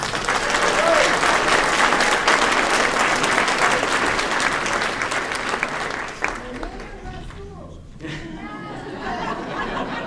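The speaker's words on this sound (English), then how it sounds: "Let's give them a round of applause." A crowd applauds loudly for about six seconds at a community event in a Unitarian church, then the clapping thins out into scattered claps, chatter and light laughter.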